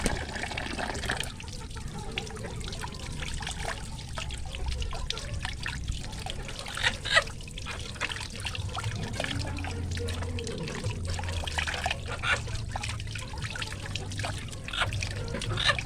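Water trickles and splashes continuously while a paralysed chicken is washed, a steady close pouring sound with small drips throughout.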